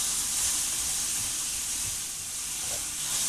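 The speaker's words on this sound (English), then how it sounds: "I'm just going to fry it until all the meat changes the color" Minced meat frying in a hot pan for a meat pie filling, a steady, close hiss and sizzle with no talk.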